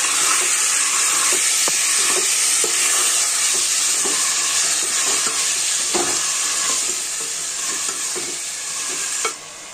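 Mutton sautéing in a pan for mutton sukka gives a loud, continuous sizzle and hiss, broken by regular scraping stirs of a spoon, close up with no talking.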